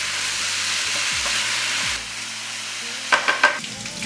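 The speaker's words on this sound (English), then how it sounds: "Break down the meat, mix it with the sauce, and just like this while the pan is heating up." Ground beef sizzles loudly in a hot pan with bulgogi sauce, a steady close crackling hiss, with a few scraping stirs and clinks near the end.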